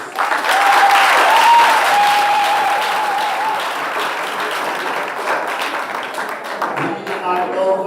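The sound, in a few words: audience applause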